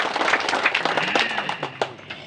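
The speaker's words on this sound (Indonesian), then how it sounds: "kita kasih tepuk tangan" Applause from a gathering at a village celebration for newly appointed officials, a brief burst of clapping with some distinct individual claps, mixed with faint voices in the background.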